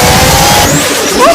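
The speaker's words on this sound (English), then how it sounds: "a twin turbocharged magazine, uses gunpowder fumes to spool up the turbos, which feed the chamber faster," A twin-turbocharged cursed weapon firing in Team Fortress 2, a loud, continuous roar with a rising whistling whine like a racing car engine, sustained without break over a short burst.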